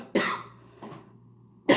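Coughing from a person with sinusitis: a harsh cough near the start, a weaker one midway, and another at the end, close and fairly loud with no talk.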